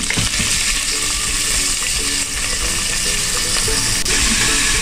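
Coconut oil sizzles and crackles steadily in a pressure cooker on the stove, a dense, even frying hiss that holds for the whole stretch with no talking over it.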